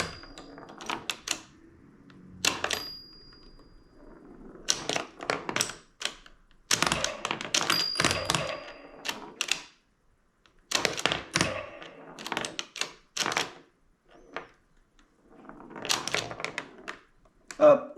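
A ROKR miniature pinball machine is played up close, with bursts of sharp clacks, flipper thunks and rattling taps coming in uneven clusters between short quiet gaps.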